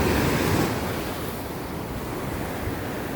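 Ocean surf on a beach in Puerto Rico, a continuous loud wash of breaking waves mixed with wind buffeting the microphone.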